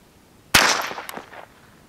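A single sharp crack from a Ruger 10/22 rifle fired at a target 100 meters away, loud and close, followed by a short decaying echo across the range.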